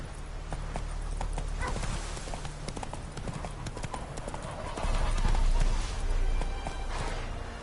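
Horse hooves clip-clopping at a gallop in an open-world video game, a steady rapid rhythm up close under constant game ambience, with a brief rider shout.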